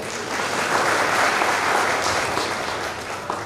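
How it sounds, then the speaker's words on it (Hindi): An audience at a Hindi motivational talk claps heartily, a thick continuous roar of many hands that stays even and loud for several seconds. "ताली तो अच्छे से बजाओ"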